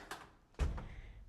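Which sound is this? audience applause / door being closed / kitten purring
door being closed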